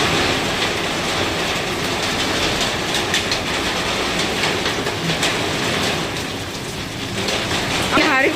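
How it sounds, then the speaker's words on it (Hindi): Very heavy rain mixed with hailstones falls in a dense, loud, continuous roar, with crackling impacts on surfaces throughout. "बहुत तेज बारिश हो रही है।"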